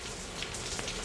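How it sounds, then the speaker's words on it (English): Rain falling at night in Dhaka at 3:25 in the morning, a dense, steady hiss of drops striking surfaces close by, with a few slightly sharper drop impacts standing out. "It's raining, obviously"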